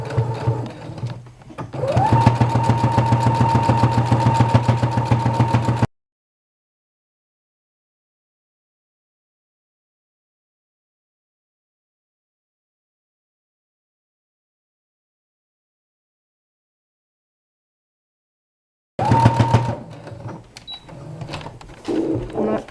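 A domestic sewing machine top stitching the bow of a Sonata jacket, a rapid, steady mechanical whirring close up for a few seconds, then a long silent gap, followed by a short second burst of stitching.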